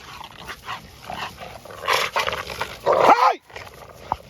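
A young bully breed dog barks and yips in a few rough, gravelly bursts, near and fairly loud, with a low growly edge and a short yelp at the end over quiet background.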